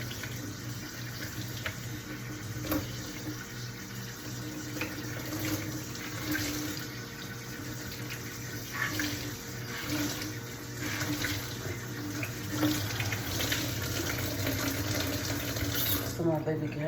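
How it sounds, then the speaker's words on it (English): Tap water runs steadily into a sink while a blanket is washed by hand, a continuous close rush with faint splashing and shifting, and a voice speaks in the background. "I'm gonna go ahead and hand wash this blanket"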